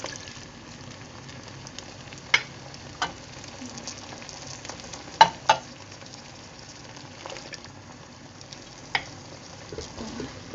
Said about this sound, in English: the tomato puree has fried for some time